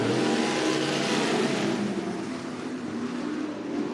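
Dirt-track race cars roar off the green flag start at Cottage Grove Speedway in Oregon, a dense wall of engines revving loudly and accelerating together, close and sustained, easing slightly before swelling again.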